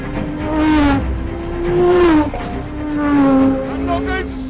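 An Aston Martin Vulcan track car's engine under hard acceleration, a loud, close harmonic roar that climbs in pitch in repeated surges with gear changes.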